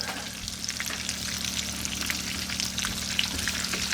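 Country-style pork chops fry in very hot oil with a steady, loud crackling sizzle and scattered pops throughout, no voices, a constant low hum beneath.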